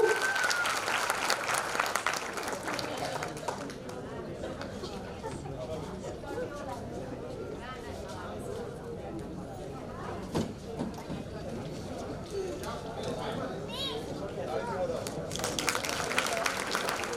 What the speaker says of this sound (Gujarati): જોરદાર તાળીના ગડગડાટથી વધાવીશું.